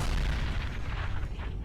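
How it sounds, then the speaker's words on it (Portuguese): A single heavy gunshot from an animated Skibidi Toilet episode, a loud booming blast followed by a rumbling decay that fills the short clip with no talk. "Esse tiro veio desse Large Cameraman."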